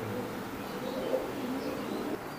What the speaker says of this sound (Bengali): এটা হচ্ছে ওমানের একটা টেডি কবুতর ভাইয়া